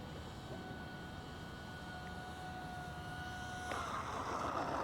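A small FPV plane with a three-blade propeller flies overhead, giving off a steady whining drone with a sustained tone like a ducted fan that swells louder near the end.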